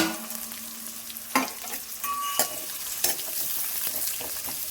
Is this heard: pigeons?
no